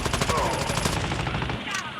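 Rapid submachine gun fire rattles continuously in a video game, dense and loud across the whole stretch with no pauses.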